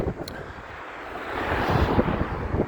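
Steady wind buffets the microphone with a low, rumbling roar that swells gradually louder, continuous throughout with no voices.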